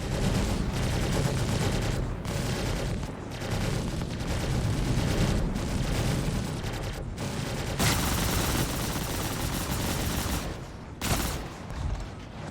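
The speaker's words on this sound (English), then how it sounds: "two small laser repeaters, looks like. But they sound like ballistics." Near-continuous rapid gunfire-like blasts from the laser repeaters of an Esperia Glaive ship in the video game Star Citizen, sounding like ballistic weapons; loud dense bursts with a few short breaks, no talking.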